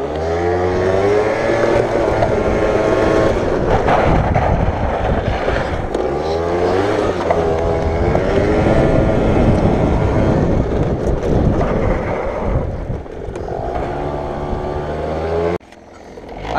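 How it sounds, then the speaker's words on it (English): Small moped engine while riding, droning with shifting pitch as it revs up and eases off in repeated waves, loud and close with wind noise, then dropping abruptly near the end. "I'm going for a moped ride and I'm going to film a little bit"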